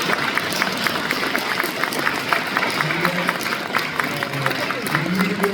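A congregation at a church worship service claps to welcome an introduced guest, a steady mid-level round of applause with fairly regular clap accents throughout.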